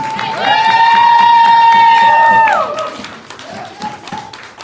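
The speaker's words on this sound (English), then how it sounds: "Clap them up, clap them up." A long, steady whooping cheer rings out from a poetry slam audience as poets are called to the stage, sliding down at the end, over a low crowd murmur and scattered claps.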